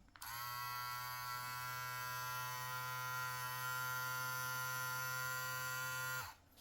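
Trisan Destroyer hair clipper switched on and left running, a steady, close, high-pitched electric buzz lasting about six seconds before cutting off.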